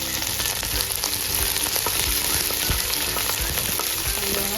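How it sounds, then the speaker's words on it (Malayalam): Onions frying in a pan with curry leaves for a Kerala-style coconut fish curry, a steady dense sizzle that runs the whole time with faint scraping and stirring beneath it and no talking. "എന്നിട്ട് നമ്മൾ ഉള്ളി ഇട്ട് കൊടുക്കുന്നു."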